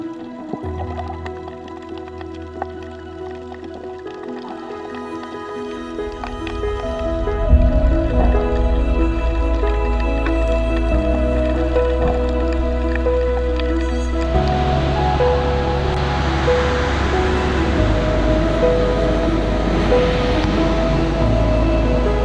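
Snorkeling in clear sea water at Mirissa beach in Sri Lanka, with steady close sloshing and muffled underwater rushing, turning brighter and splashier partway through, loud and continuous without talk.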